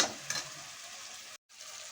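Tomato chutney is stirred as it fries in a pan, giving a steady close sizzle with spoon scrapes and one very brief dropout.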